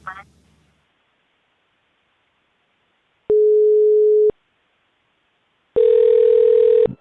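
A telephone call's ringing tone sounds twice, each a loud steady beep lasting about a second with a long silent gap between, after a brief burst of sound at the start.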